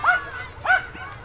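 Two sharp dog barks, moderately close, separated by a short pause, against quiet airport background noise.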